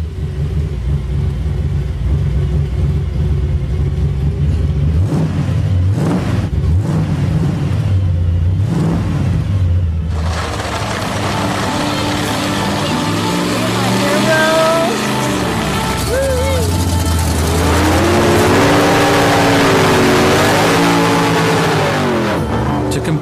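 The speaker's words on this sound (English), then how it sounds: "Rose feels the Mustang is just about ready to hit the racetrack" A souped-up Mustang muscle car at a racetrack rumbles loudly, then revs repeatedly with rising and falling engine pitch and deep idling between surges.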